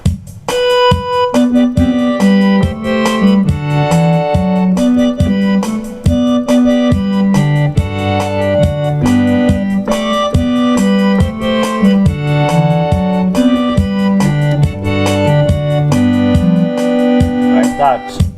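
Piano keyboard playing the Catholic song Utukufu with bass and melody together: a loud, steady stream of chords over a moving low bass line, heard up close and without talking.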